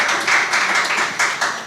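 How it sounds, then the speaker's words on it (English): A short round of applause for finishing college, a small group clapping steadily and close for under two seconds. "Round of applause for finishing college"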